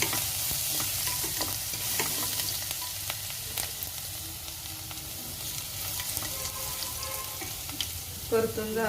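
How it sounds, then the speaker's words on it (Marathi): Chopped garlic sautés in a pan for fried eggplant, a constant bright sizzle with scattered spatula scrapes and stirring clatter, ending in a louder metallic knock near the close, no talking. "छानसं हलवून लसूण 2 मिनिटं परतून घेऊया"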